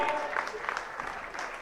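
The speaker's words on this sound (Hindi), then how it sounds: "आप सबकी जोरदार तालियां चाहूंगा मित्रों" A brief burst of hearty applause from the audience at a Jain religious discourse gathering in Agra, dense clapping heard clearly throughout the short moment.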